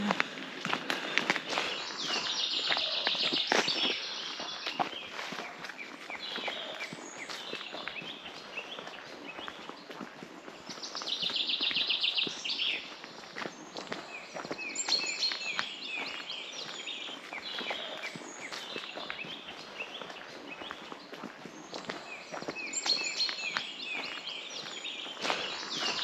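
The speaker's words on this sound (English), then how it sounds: "Hear all the birds?" Birds calling and singing in woodland around old industrial remains in the East Mendip Woods, bright chirps and trills scattered throughout, mixed with footsteps crunching on the ground.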